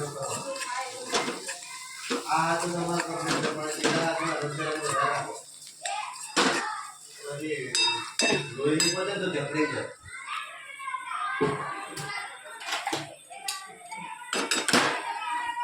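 A spoon stirs boiled potatoes with spices in a bowl, with repeated clinks and scrapes against the bowl while a person keeps talking.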